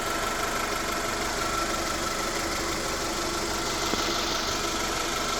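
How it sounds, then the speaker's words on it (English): A 2000 Honda CR-V engine, freshly rebuilt after a blown head gasket, runs steadily at idle up close, a dense continuous rumble with a faint rhythmic knock and no voices. "Well, engine's back together and going."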